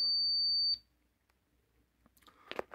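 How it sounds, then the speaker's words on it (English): A Kangaroo Joey enteral feeding pump alarm gives one steady, high electronic beep that holds for under a second and then cuts off, followed by near silence and a few faint handling clicks and rustles. "Let me stop this alarm."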